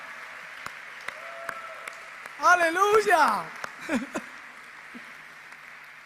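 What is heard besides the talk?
congregation applauding in church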